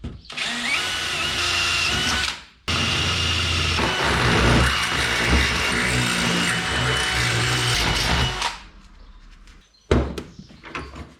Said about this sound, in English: So I'll drill these holes.